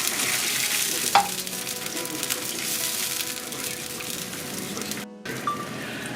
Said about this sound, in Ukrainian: Замороженого томату кинули. Хай тепер тушиться. Треба помішати.